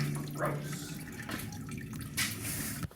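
Coolant drips and trickles out of a 2019 CFMOTO 500S motorcycle into a catch pan, a quiet, close, uneven patter of drops and splashes with a brief louder splash near the end.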